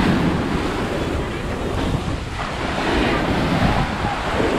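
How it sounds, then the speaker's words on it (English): Large, choppy ocean waves crash and wash continuously at Fort Lauderdale Beach, a loud roaring surf heavily buffeted by wind rumbling against the microphone. "The waves are f-ing terrifying."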